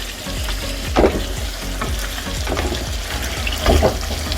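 Afghani chicken cooks in a pan with a loud, steady sizzle and bubbling of juices close by, broken by a couple of brief stirring scrapes; no one speaks.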